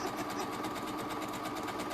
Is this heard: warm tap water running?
no